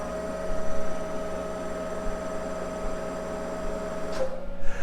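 A Monarch 10EE thyratron-driven lathe runs in forward while taking a threading cut, holding a steady electrical hum with a thin tonal whine that shifts abruptly near the end.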